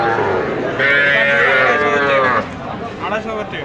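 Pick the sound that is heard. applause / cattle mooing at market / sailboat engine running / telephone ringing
cattle mooing at market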